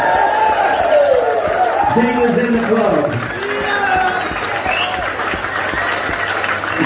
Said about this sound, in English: round of applause for the new girl